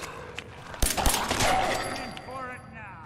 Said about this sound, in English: I do like the pistol sound, but it is unfortunately so loud.